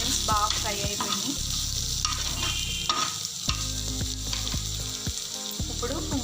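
Chopped onions fry and sizzle steadily in a pan for a masala omelet, with repeated sharp scrapes and knocks of a spatula stirring them throughout.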